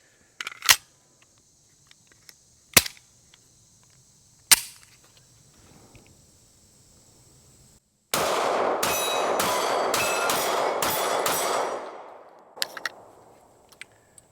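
A Smith & Wesson Shield X pistol fired one-handed outdoors: three sharp single shots spaced apart, then a fast string of rapid shots ringing out, followed by a couple of fainter reports.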